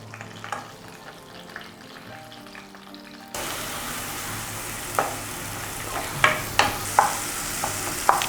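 Ginger, chili and garlic paste, ground with cashews, hits hot ghee and oil in a pan after a quiet stretch, then a steady close sizzle with occasional stirring scrapes and pops.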